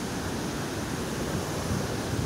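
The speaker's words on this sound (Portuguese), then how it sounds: "Olha o barulho da cachoeira que tá aqui." A waterfall pours through rock, making a dense, steady roar of rushing water that stays loud and even throughout, with no voices.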